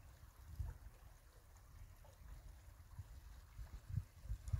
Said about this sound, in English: Something about that sound of water,